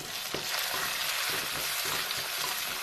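Tomato mixed with red chilli powder, turmeric and salt stirred in a hot pan, a dense, close sizzle with soft rhythmic spoon scrapes every half second or so.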